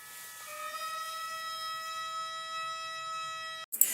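A long, steady siren tone with rich harmonics holds for several seconds inside eerie Silent Hill transmission music, then cuts off abruptly into a brief burst of noise.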